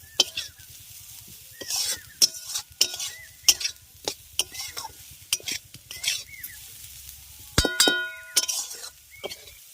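Bitter gourd frying with spice masala in a pan, stirred by a utensil that clinks and scrapes repeatedly against the metal over a soft sizzle, with a few brief louder clatters near the end.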